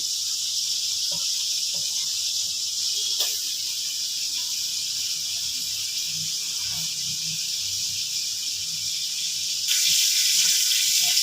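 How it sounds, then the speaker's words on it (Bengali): Chopped garlic fries in butter in a wok with a loud, continuous sizzling hiss that holds steady and swells slightly near the end, with no talking. "কড়াতে একটু বাটার দিয়ে দিয়েছি। এখন প্রথমে দিয়ে দিচ্ছি একটু রসুন কুচি।"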